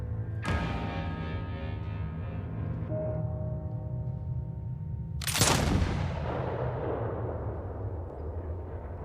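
Gunfire in a 1920s-era drama scene, a sudden loud crack about a second in followed by a long ringing decay, then a second heavy blast midway that trails off into rumbling reverberation.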